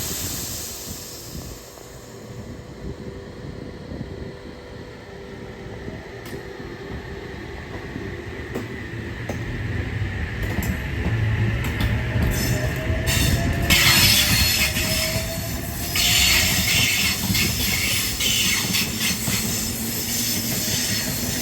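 A passenger train departs Gosford station on the Central Coast line in New South Wales. Its wheels squeal in long, loud, high-pitched screeches as it rolls past nearby, with rail rumble and hiss building over about twenty seconds and no talk.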